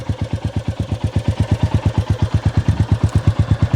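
A Royal Enfield Goan Classic 350 motorcycle engine, just electric-started, idles close by in a steady, loping rhythm of even low pulses, with a faint mechanical clatter over it.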